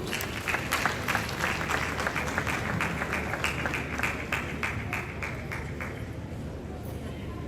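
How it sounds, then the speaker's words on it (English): An audience applauds at a royal ceremony marking 100 years since King Prempeh I's return from Seychelles, with sustained crowd clapping, several louder individual claps standing out and a faint steady tone running underneath. "Please make him welcome. With a round of applause"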